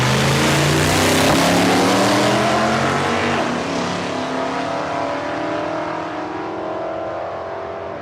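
A Ford Bronco and a 1956 Ford F100 drag racing side by side at Palmyra Raceway, their engines roaring loudly at full throttle, with the pitch sliding downward as they tear away down the strip.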